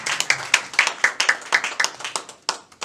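A church congregation claps together during a gospel service, a quick rhythmic run of loud, close claps that fades toward the end.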